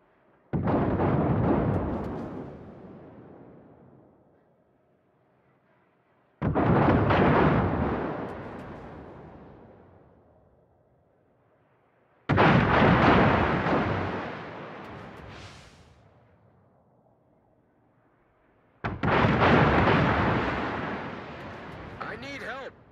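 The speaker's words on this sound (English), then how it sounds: "Concentrate fire on the target." Naval artillery salvos in the warship game World of Warships, four heavy booming blasts spaced about six seconds apart, each rolling out into a long decaying rumble before the next.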